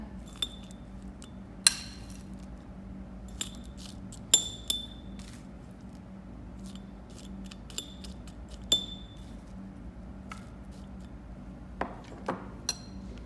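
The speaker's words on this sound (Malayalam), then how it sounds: "അടുത്തത് നമ്മൾ നേരത്തെ റോസ്റ്റ് ചെയ്ത് വെച്ച ഓട്സിൻ്റെ മിക്സ് ഇടുക." Roasted oats mix being spooned into a glass for a yogurt and fruit parfait, with scattered light clinks and taps of a spoon against glass over a quiet kitchen background.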